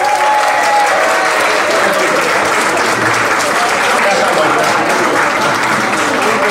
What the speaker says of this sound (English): Ladies, I want you to give the men a round of applause.